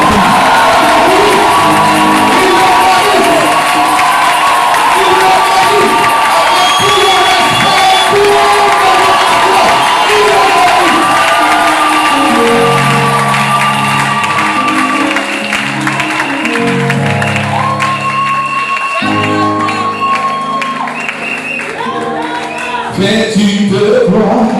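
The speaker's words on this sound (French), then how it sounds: "Donne des acclamations à Jésus pour leur vie." A large crowd at an evangelism campaign cheers and acclaims loudly, with shouts, whoops and clapping in a sustained roar, a musical tone holding through it and the noise easing off somewhat toward the end.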